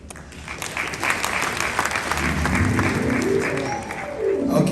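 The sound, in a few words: applause at a wedding ceremony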